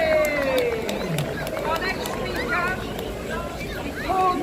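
Rally crowd at a May Day protest whoops and cheers for a speaker, a loose mix of shouts and claps over murmuring, with a few voices rising above the rest throughout.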